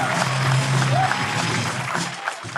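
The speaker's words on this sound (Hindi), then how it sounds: "शीजा चतुर्वेदी के लिए जोरदार तालियां दोस्तों" A live comedy roast audience breaks into applause, a steady wash of clapping and crowd noise that carries on throughout, with some voices mixed in.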